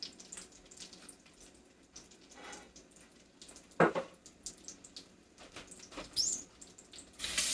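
Hands rinsed under a running kitchen faucet while eggplant parmesan cooks, a soft stream of water broken by splashes and a sharp louder gush near the middle, fairly quiet and without speech.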